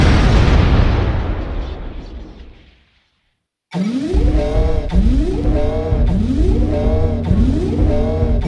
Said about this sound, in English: Weapon explosion detected.